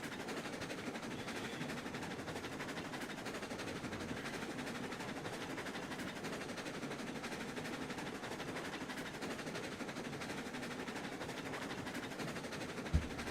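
A train driven in the railroad simulation game Railroads Online, heard as a steady, continuous rumble with a faint rail rhythm running unbroken for the whole stretch, ending in a brief sharp thump.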